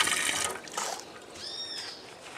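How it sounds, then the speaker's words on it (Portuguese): Running tap water rinses soap off fishing pliers, a close splashing stream that thins to a trickle and then swells again. "Põe na água corrente para tirar."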